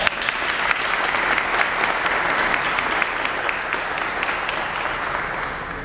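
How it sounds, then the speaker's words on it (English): Strong, sustained applause from a crowd at an airport aircraft dedication ceremony, many hands clapping together in a dense, even roar that holds for several seconds. "She deserves just a huge round of applause."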